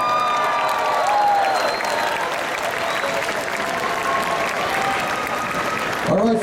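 An audience at an anime convention's sumo slam event in Houston claps for the match winner, with sustained, dense applause and light cheering throughout, while an announcer's voice carries over it and fades out at the end.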